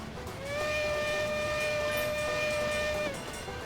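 Steam-style train whistle in a cozy train driving sim game, one sustained steady tone held for roughly two and a half seconds over a low rumbling engine bed, loud and clear with no voices.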